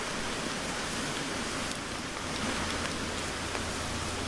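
Rain falls outdoors during a rainstorm as a constant, dense hiss close by, with no speech.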